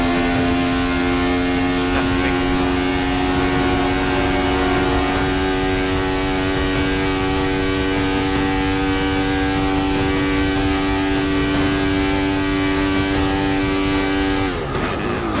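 Racing cars in Forza 6 holding a steady, loud engine drone at sustained speed, one car pulling away from the pack, with a brief shift in tone near the end.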